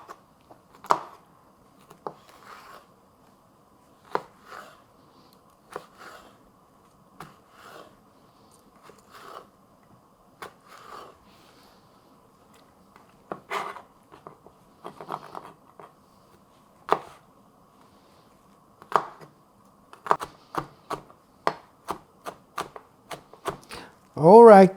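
A knife chops pickled cucumber on a board in irregular crisp taps that cluster faster toward the end; the sound is close and fairly quiet.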